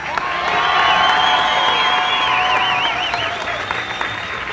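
A crowd at a welcome-home ceremony for returning Desert Storm soldiers at Fort Bliss, El Paso, claps and cheers loudly, a dense wash of applause with whoops and shouts rising and holding for several seconds.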